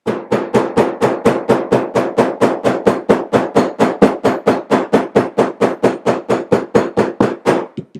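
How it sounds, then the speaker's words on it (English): A hammer pounds down a glued leather pen holder in a rapid, even series of about thirty sharp, loud, close strikes that fade out at the end. "and I'm going to hammer that down good."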